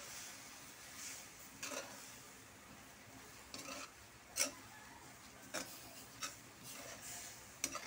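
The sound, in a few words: stirring winged beans cooking in coconut milk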